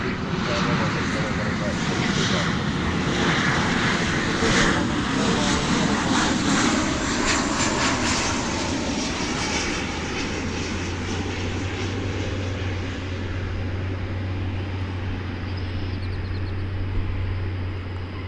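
An American Airlines Boeing 737-800 departs Dallas Fort Worth at daybreak, bound for Fort Lauderdale, its jet engines roaring loud and steady throughout, with a low hum settling in toward the end.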